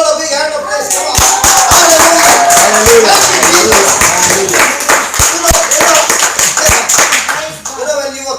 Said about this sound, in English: Let's give the Lord a big hand of praise.